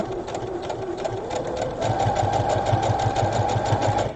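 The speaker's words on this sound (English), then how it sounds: "I'm doing a straight stitch with the needle in the center." Sewing machine running a straight center-needle stitch on a drawstring bag, a steady close mechanical whir with rapid needle ticking that speeds up and grows louder partway through, no talking.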